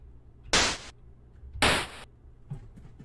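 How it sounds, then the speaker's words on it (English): A synthesized 8-bit note with a fast decay to a low sustain sounds twice as short, bright bursts that drop away quickly, followed by a fainter third hit, with near silence between them. "So it goes down very, very low, very quickly, which sounds like this."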